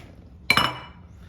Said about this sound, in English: Grab those eggs. I'm gonna crack both of them right into here.